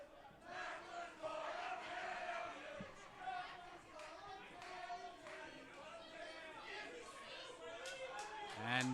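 A wrestling crowd at an indoor show cheers and chants, rising and falling in waves with a loud burst near the end, while a commentator talks over it.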